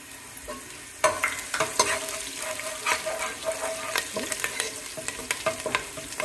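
Garlic and green chillies frying in hot coconut oil for a fish curry: a sharp, crackling sizzle begins abruptly and keeps popping, with frequent spatula clinks and stirring close by.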